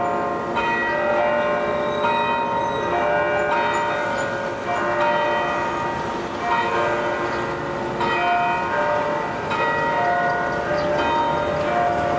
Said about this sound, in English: I think church is letting out now. You can hear the bells.